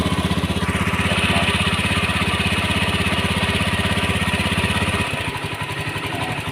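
A Honda Beat FI motorcycle engine with a quick-draining battery and a sputtering fault idles with a fast, even putter close by, then shifts to a slower, rougher beat near the end.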